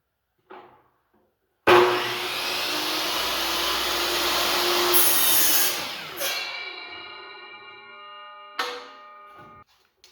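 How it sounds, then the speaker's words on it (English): A power saw tilted to a 9-degree bevel cuts the angled end of a wooden board, first revving up sharply into a loud, sustained roar through the wood, then winding down with a ringing whine and a few knocks. "So I'm going to start just by setting the saw to 9 degrees here and locking it in place. I'm first going to take the board and cut the end to that angle."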